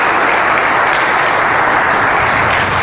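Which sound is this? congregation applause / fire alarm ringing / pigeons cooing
congregation applause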